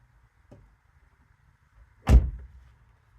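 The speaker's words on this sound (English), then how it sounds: "now we're gonna lock this door" A faint click, then a sharp, loud mechanical clunk like a car door lock or latch, close by in a quiet space.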